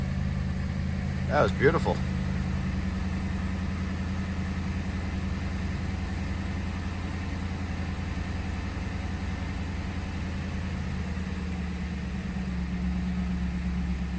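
Ford Crown Victoria engine cranking and settling into a steady low idle, a constant rumbling drone close by for the whole stretch, with a short spoken remark near the start.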